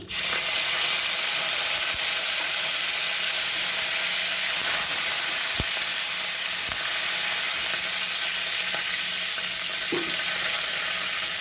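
Curry leaves and coriander are dropped into hot oil with mustard seeds, producing a loud, steady, close sizzle and crackle that runs the whole length with a few sharp pops and no talking.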